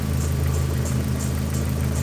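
A car engine idles steadily in a garage, a low even hum with a slight whir, running smooth and unbroken up close.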